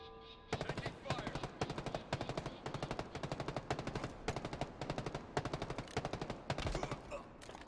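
Rapid automatic gunfire in the Call of Duty Vanguard video game, a dense near string of loud bursts running almost continuously, with faint game voices underneath.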